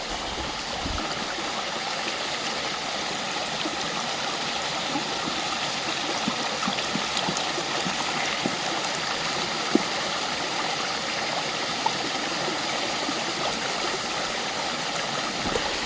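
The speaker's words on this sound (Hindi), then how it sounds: "पत्थरों के बीच से इतना तेज़ पानी आ रहा है, पानी ऐसे गिर रहा है" Fast mountain stream in Uttarakhand rushing and splashing between stones, a steady broadband roar that fills the whole stretch without pause, close by and fairly loud, with no voices.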